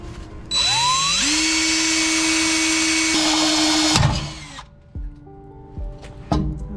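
A drill bit bores out a rivet on the transmission shielding of an NB Miata 6-speed: a loud, high whine climbs in pitch and holds for about three seconds, then cuts off into a few sharp clunks and light metallic knocks.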